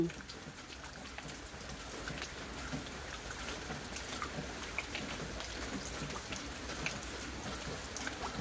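Rain falling in a garden, a steady soft hiss of drops pattering on surfaces throughout, fairly close and even, with no talking.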